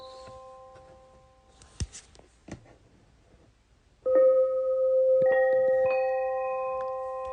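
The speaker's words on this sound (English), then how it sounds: "And your good old bell." A bell from a relaxation sounds app strikes once and rings on with a long, steady, slowly fading tone, layered over soft static and faint ticking and crackling ambience.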